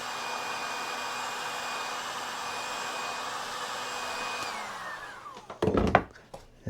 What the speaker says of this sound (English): So we're going to get this on a heat gun and try to get it warm.